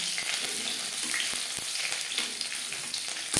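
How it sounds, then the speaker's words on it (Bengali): Garlic cloves go into green chilies frying in oil for ghatkol leaf bata, a continuous close sizzle with a few faint taps from a utensil and no voices. "সাত মিনিট লঙ্কা ভেজে নেওয়ার পর দিয়ে দেবো তিন চার কোয়া রসুন"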